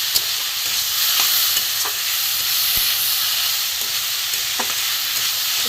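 Ash gourd pieces frying in a pan, a constant bright sizzle and hiss close up, punctuated by occasional light clicks of a stirring spatula.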